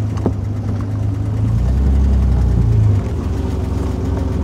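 The engine of a 1938 Alvis Speed 25 SB runs steadily at idle, a deep, even low rumble close up with a slight swell in the middle, no voices over it.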